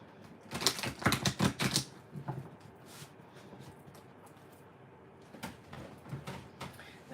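Tarot cards are shuffled in quick bursts of crisp clicking riffles, close and fairly loud at first. A quieter stretch follows, then sparser card clicks and taps near the end.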